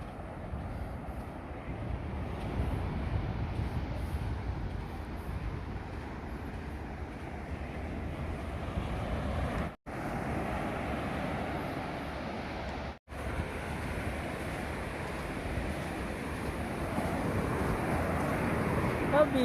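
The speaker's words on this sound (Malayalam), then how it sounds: "ആ ബീച്ചിൻ്റെ സൗണ്ട് കേട്ടാ." Surf rolls onto Roker beach in Sunderland near a lighthouse and moored fishing boats, a steady, broad roar of waves mixed with gusty wind buffeting the microphone, continuous for the whole stretch apart from two brief dropouts.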